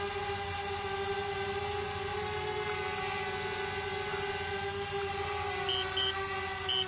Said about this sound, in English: Okay, we're going to land the aircraft.